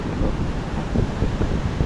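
Strong wind and crashing surf at a beach in Bucana, Philippines: a steady, loud broadband roar with wind buffeting the microphone, waves rolling beneath it, and no voices.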